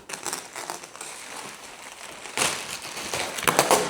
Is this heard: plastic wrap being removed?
yes